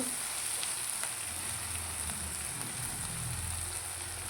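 Ridge gourd curry with salt and turmeric sizzles and crackles in an oiled pan as it is stirred, a soft continuous frying hiss with faint scraping.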